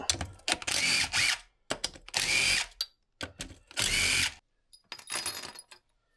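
Case bolts coming out of the engine of a 2014 Kawasaki KX250F, loud close bursts of a power drill or impact driver whirring in four separate runs with short pauses between, no talking.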